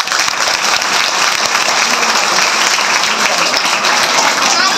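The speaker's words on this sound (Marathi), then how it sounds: "दादासाठी का जोरदार टाळ्या" Loud, sustained applause from an audience at a Savitribai Phule birth anniversary event, a dense unbroken wash of many hands clapping together close by for the whole stretch.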